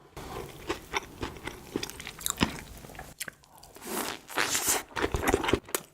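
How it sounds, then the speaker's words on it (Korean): Close, crisp bites and moist chewing of a corn-shaped corn bread snack dipped in milk, eaten for a mukbang, come in repeated crunchy bursts with soft rustling between and no talk. "우유에 찍어 먹을게요."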